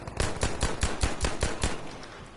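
Rapid automatic gunfire in the World War II shooter Battlefield V, about a dozen sharp, evenly spaced shots in a fast burst, loud and close with nothing else over it.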